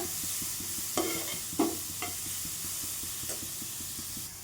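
Beetroot sautéing in a little oil over a low flame, a soft steady sizzle with a few distinct spatula knocks and scrapes against the pan, fairly quiet and close.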